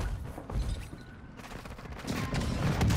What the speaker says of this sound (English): I died to an airstrike